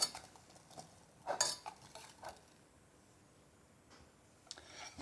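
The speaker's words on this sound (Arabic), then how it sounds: "ثم نخلط هاد العناصر مزيان." A utensil clinks against a bowl while chocolate mini cake ingredients are mixed, giving a few sharp scraping taps in the first half and then a long quiet stretch with one last faint click, no talking.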